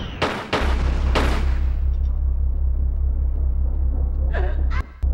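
Gunshots fired at a power box in the PS1 game Tomb Raider 3: three sharp, loud reports in quick succession open the passage, then a steady low hum runs beneath a couple of fainter clicks near the end.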